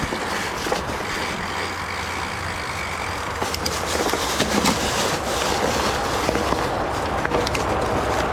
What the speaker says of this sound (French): Normalement, dans pas longtemps, vous allez entendre les voitures passer.